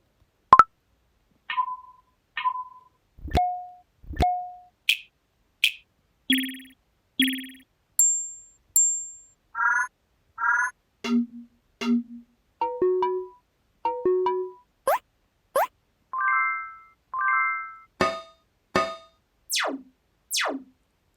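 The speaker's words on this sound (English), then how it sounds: "The next feature is having a custom notification sound" A run of Snapchat+ custom notification tones plays one after another: short chimes, beeps and rising or falling bleeps, each clear and close, separated by brief silences, with no talking.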